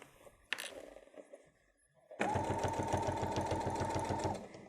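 After a few soft handling clicks and a pause, a sewing machine starts up close by and stitches steadily for about two seconds on a travel pouch with a zipper.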